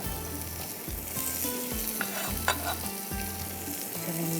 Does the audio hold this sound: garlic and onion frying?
yes